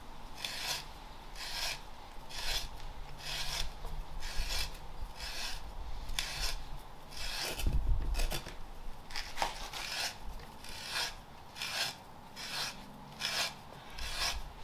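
A sharp hand T-auger bores into a wooden stump for an axe block, giving repeated rasping, grinding scrapes in a steady rhythm of turns, close and moderately loud with brief pauses between strokes.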